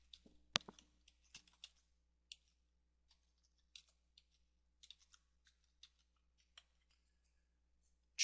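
Scattered, quiet keystrokes tap on a computer keyboard in an irregular rhythm, with a short burst of closer clicks early on and another sharp clack at the very end.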